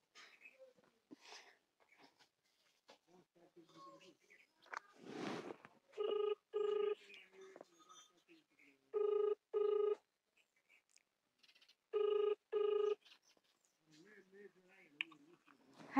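Telephone ringback tone on an outgoing call, three paired bursts of a steady electronic ring separated by pauses, heard between quieter speech, and someone talking softly before and after.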